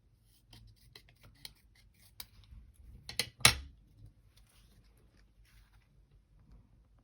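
Scissors snip paper in a mixed media creative journal: a series of faint, close, crisp cuts, with one louder snip midway, then quiet.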